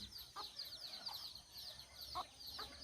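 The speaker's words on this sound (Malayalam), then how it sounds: "അമ്മക്കോഴിയും കുഞ്ഞുങ്ങളും" Faint, high peeping of chicks chirps continuously, with a few soft low clucks from a hen mixed in, heard from a short distance.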